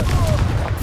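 The explosive Confringo spell fired in combat in the video game Hogwarts Legacy, a short, sharp blast with a booming thud under a steady background of game noise.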